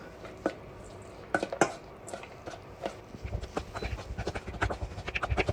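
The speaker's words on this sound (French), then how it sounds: "Et on va se le mélanger à la cuillère." A spoon mixes diced cheese in a dish, giving close clinks and scrapes, sparse at first and then a quicker run of steady stirring taps at moderate loudness.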